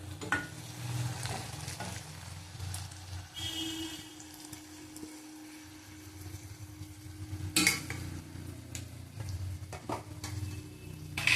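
Whole garam masala and tomato paste sizzle in a pan, a soft steady frying hiss with occasional stirring scrapes and utensil clinks, close and fairly quiet, without talk.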